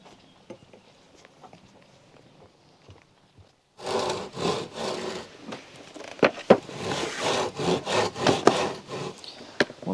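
A handsaw rips through scrap wood boards in steady, rhythmic strokes, starting after a quiet few seconds and continuing close and fairly loud to the end, with no voices.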